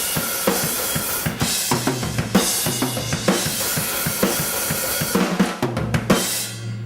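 Full drum kit playing the second part of the verse from a song: driving kick and snare hits under a constant roar of crashing cymbals, loud and busy throughout, with no talking.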